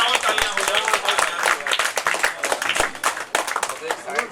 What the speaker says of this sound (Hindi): आइए एक बार और तालियां हो जाए।